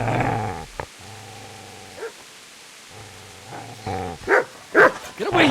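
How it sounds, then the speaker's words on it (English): A dog in the video game Kingdom Come Deliverance barks and growls in short harmonic bursts, with low rumbling growls between sharper yelps and barks rising toward the end, close and fairly loud. "Get away, you mutt!"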